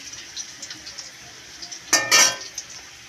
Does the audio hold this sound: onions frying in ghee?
yes